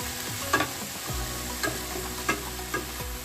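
Ginger paste fries in oil for an oats pulao, a close steady sizzle broken by several scraping stirs of a spoon against the pan at irregular intervals.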